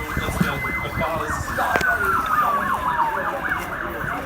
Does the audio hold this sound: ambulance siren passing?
yes